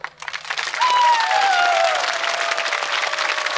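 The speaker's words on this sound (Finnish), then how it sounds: "Eiköhän anneta vähän aplodia laulajille" A studio audience claps for singers at a 1995 Tampere outdoor television broadcast, a dense sustained wash of applause that swells quickly and holds steady, with a faint voice near the start.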